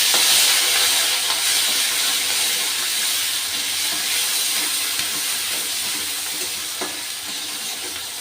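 Onion paste is added to hot oil seasoned with black cumin and bay leaves, giving a loud, continuous close-up sizzle and steamy hiss that fades gradually, with a few faint stirring clicks.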